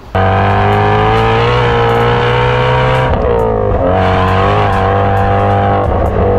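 A Shelby GT350's 5.2-liter flat-plane-crank V8 revs hard and loud, its pitch climbing and dipping through several blips with a rough, throaty edge.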